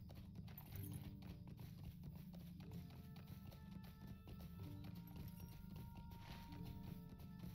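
Horse hooves clip-clopping in a steady walking rhythm while riding through the moors in Lord of the Rings Online, over a constant low ambient bed, fairly faint.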